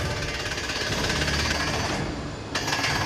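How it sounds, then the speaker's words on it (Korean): A military well-drilling unit's hammer drill pounds a borehole into rock while high-pressure air blows out the chips. It makes a loud, steady, rapid hammering clatter at close range. "찾는 심정 작업은 해머로 시추공을 파내려가고 그때 생긴 돌 조각들은 고압의 공기로 불어내는 원리로 진행된다"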